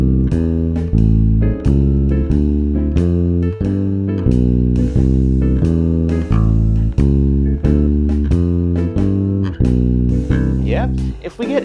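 Walking bass line moving two chords per bar through a simple progression, played as a steady, loud run of evenly spaced plucked notes with a harmonic accompaniment, with no talking over it.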